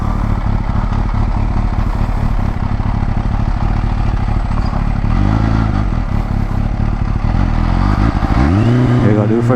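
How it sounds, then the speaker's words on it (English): Kawasaki H2 motorcycle pulling away in first gear under gently eased throttle, a loud close engine drone that climbs in pitch near the end as it revs up, with a voice talking briefly over it. "Here we go, do first gear. I'm just easing in the throttle."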